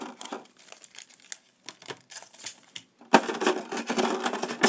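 A pack of Pokémon cards is torn open, giving bursts of crinkling and rustling foil wrapper, sparse and stop-start at first, then louder continuous crumpling close by.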